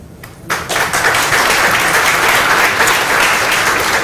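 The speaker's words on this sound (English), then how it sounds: "Now I would like to invite 6 speakers to give the audience a big applause." A forum audience applauds loudly and steadily after a brief quieter lead-in, the dense clapping sustained for several seconds without letting up.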